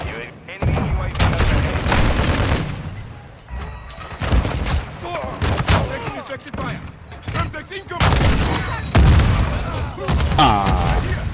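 Loud, close gunfire and explosive blasts in Call of Duty: Modern Warfare II, with a grenade burst among repeated sharp shots and booms in irregular clusters, broken by a few brief lulls.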